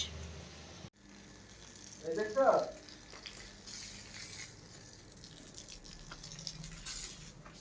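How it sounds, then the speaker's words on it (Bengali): Meat being sautéed in a home kitchen pan produces a soft, low sizzle with a brief louder burst of sputtering, heard faintly amid background room noise. "এখানটাতে মা মাংস কষাচ্ছে"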